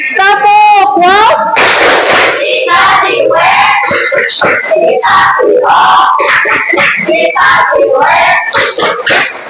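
A classroom group shouts and chants together loudly in rhythmic bursts, clapping a "wow" cheer with energetic yelling throughout.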